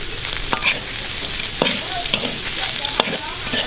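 Steady hiss and crackle of garlic and chilies stir-frying in a hot wok, with occasional sharp clanks and scrapes of a utensil stirring.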